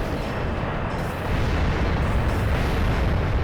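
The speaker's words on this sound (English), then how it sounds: "I'm just shooting the giant sand vehicle" A loud, steady rumble of explosive gunfire blasts away at a giant sand vehicle in a retro video game, a continuous wall of booming noise with a brief dip early on.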